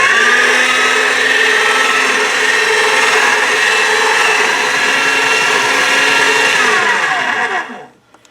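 White and translucent polymer clay pressed through a pasta-style clay machine on its thickest setting gives a steady, loud motorized whir that runs continuously for several seconds, then winds down and stops.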